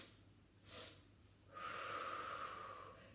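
During a Pilates exercise a person breathes close by: a brief breathy inhale, then a longer, steadier audible breath that rushes and fades away.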